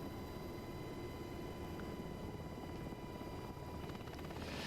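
Black Hawk helicopter in the DCS flight simulator climbing out after takeoff and moving into forward flight, a steady, loud rotor and engine drone that holds evenly throughout with no talk.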